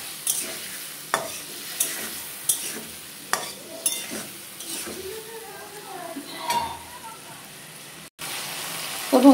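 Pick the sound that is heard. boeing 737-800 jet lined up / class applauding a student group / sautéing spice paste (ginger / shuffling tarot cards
sautéing spice paste (ginger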